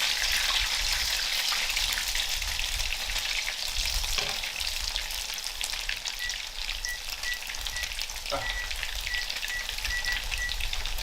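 Latkes fry in very hot oil with a dense, continuous crackling sizzle that stays loud and close throughout, with no talking over it.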